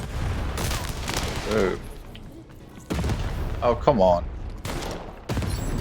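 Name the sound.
cannon fire from the Baroness's cannons, video game Lost in Random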